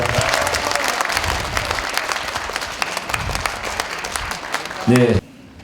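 An audience at a parliamentary report meeting breaks into loud, sustained applause, many hands clapping together, before a voice cuts in briefly at the end and the sound stops.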